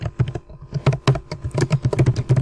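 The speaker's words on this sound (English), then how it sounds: "So what I'm typing here is the good way." Rapid, uneven clatter of a computer keyboard while Python code is typed, close and crisp with dense keystrokes and no talk.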